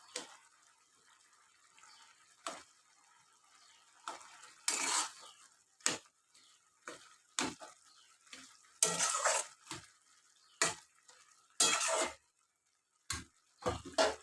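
A spatula stirs banana stem curry with boiled potatoes in a frying pan, making intermittent quiet scraping and clattering strokes separated by near-silent pauses, with no voices.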